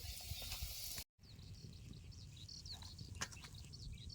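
A bean paratha frying in a pan, rustic village style, crackles with a faint continuous sizzle broken by a short dropout, with light scraping and no voices.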